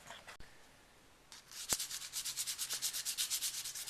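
Steady back-and-forth rubbing of hand sanding a guitar nut, close up, in a quick even rhythm of strokes after a couple of sharp taps, no voices.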